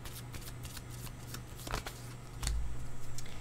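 Tarot cards shuffled and drawn close up, with quick riffling flutters and soft slaps of cards, then a louder rustling shuffle near the end.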